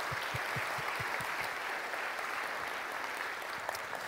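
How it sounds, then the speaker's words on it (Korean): A church congregation claps to give glory to God, a fairly quiet, even wash of applause with a few low thumps early on, no voices over it. "우리 박수로 하나님 앞에 영광 올려드렸으면 좋겠습니다."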